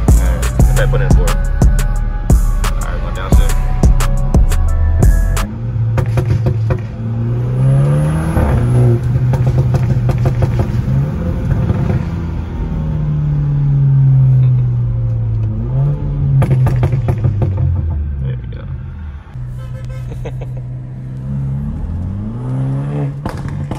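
BMW 328i F30 with a pro-tuned engine revving hard and accelerating through the gears, loud and close, with repeated rising pulls and short dips at each shift.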